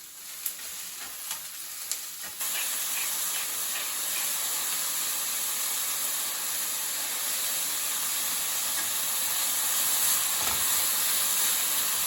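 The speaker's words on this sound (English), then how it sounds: "we're going to add the mushrooms and let those cook for another about 2 minutes or so until they've released some of their juices and started to brown" Mushrooms sizzling as they cook in a pan, a steady loud frying hiss that starts abruptly after a few quiet clicks and continues unbroken to the end.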